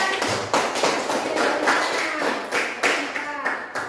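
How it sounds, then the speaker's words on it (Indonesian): A short round of clapping from a small group, uneven and rhythmic, with a voice speaking at the start. "Beri tepuk tangan"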